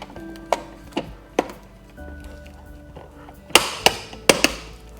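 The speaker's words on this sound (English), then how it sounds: "we're gonna run a drywall screw up in it" A drywall screw goes into a hole while a budget smart switch is being installed in a garage. Sharp clicks and taps come at intervals, with a faint steady hum underneath and a brief buzzy driving burst.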